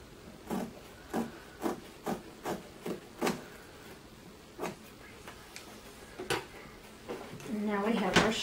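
Scissors cut across fabric strips for a tutu dress, making a series of about a dozen short, crisp snips at an even pace, close by and fairly quiet, followed by a louder rustle at the end.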